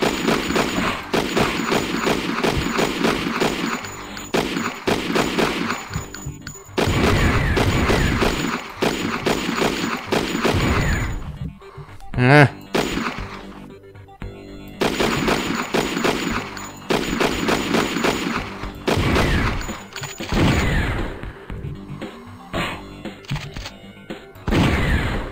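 Gunfire from the browser game Thing Thing 2 rattles in long, loud bursts of rapid shots with clanging impacts. The volleys stop in short gaps and start again, and no one talks.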